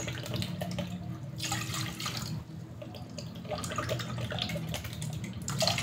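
Water poured from a container into a pot while preparing siomai sauce in a kitchen, a steady close splashing pour with a few short pauses and no talking.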